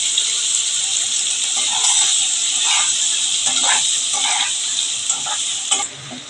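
Oil sizzles and hisses steadily in a pan while parboiled cauliflower is fried and stirred, with intermittent scraping and bubbling close up.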